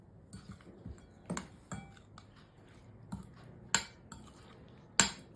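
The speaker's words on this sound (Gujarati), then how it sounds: "હવે આ જે મસાલો છે એની અંદર આપણે આ આથેલા મરચાં ઉમેરી લઈશું." Pickled chilies being mixed into a spice masala: sparse metallic spoon-and-bowl clinks and soft scrapes, with a couple of sharper knocks near the end, in a quiet kitchen.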